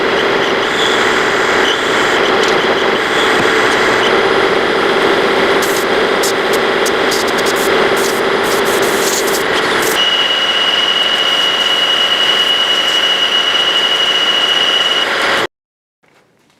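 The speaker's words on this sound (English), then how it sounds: "remove a small amount of material from the inside and the outside, and I'll do it with my homemade power feed" A milling machine driven by a homemade power feed cuts metal with a loud, steady whine and hiss that shifts pitch partway through, then stops abruptly.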